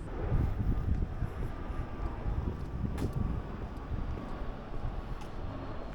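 An airplane drones overhead as a steady low rumble above a quiet residential neighborhood, mixed with some wind noise, with no voices.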